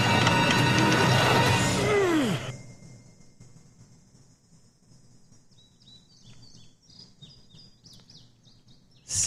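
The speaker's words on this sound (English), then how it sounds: "Birds are like, we're still tweeting." Ambient birdsong from The Walking Dead video game: after a loud opening burst of noise with a falling tone, scattered high chirps and tweets sound faintly over a quiet outdoor backdrop until the end.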